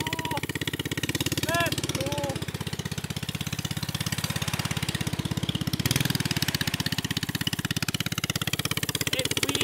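Go-kart engine runs in reverse with a steady, rapid pulsing chug at idle-like speed, close and continuous throughout, while people talk and exclaim over it.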